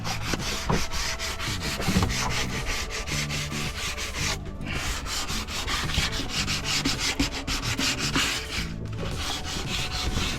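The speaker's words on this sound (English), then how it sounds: "on all my flat surfaces, I'm still doing a light sanding to get the next coat to bond on there." Steady back-and-forth light sanding of varnished wood on a sailboat, a dry rhythmic rasp repeating quickly and close by, with no talking.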